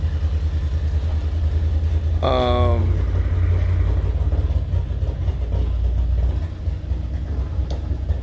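A car engine runs outside in a New Jersey neighborhood while a man works on it, a steady low rumble heard from indoors throughout, with a brief tonal whine partway through.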